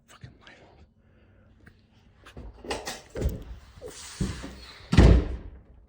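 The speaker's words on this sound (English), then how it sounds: "I swear I saw something as I shut the door." A door is shut at night in a dim house, a sharp thud near the end following a few softer knocks and shuffles, with hushed voices talking earlier.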